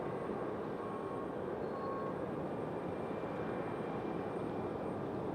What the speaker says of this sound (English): Our next departure is going to be this A321 right here.